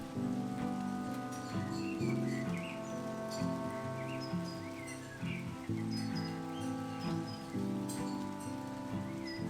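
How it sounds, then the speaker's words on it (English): Light rain falls in a garden, a soft, even patter of drops over a quiet background, with scattered bird chirps heard faintly throughout. "It is raining a little bit, but we'll go out anyway"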